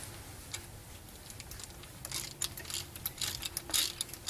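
Nut being run up a Lokrite frac connection by hand, a quiet series of metallic ticks and clicks that grow slightly busier and louder toward the end.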